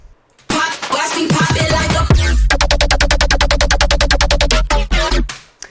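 A heavy electronic dubstep synth bass plays a fast, stuttering pulse of rapid repeated hits, loud and alone after a brief gritty swell.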